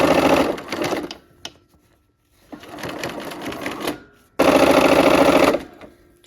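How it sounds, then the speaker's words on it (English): A sewing machine runs in three bursts while stitching the final seam of a quilt along a bias edge, loud and close, with a rapid mechanical whir, short gaps between runs and a sharp click in one pause. "All right, we're sewing our last seam."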